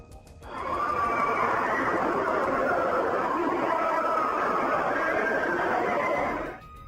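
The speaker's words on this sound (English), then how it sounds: "It was the sounds of screams from millions of humans, screams of sufferings, screams of condemned souls." A dense, continuous mass of distant wailing and shrieking voices, presented as a recording of the screams of condemned souls, swells in after half a second, holds steady and then cuts off abruptly.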